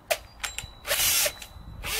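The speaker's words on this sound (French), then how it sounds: "Et ensuite je viens mettre la perceuse dessus" A power drill fitted with a hole saw, used while installing a 310-litre rainwater collector, starts with short bursty whirs and clicks, then runs up in a sustained, moderately loud spin with no talk.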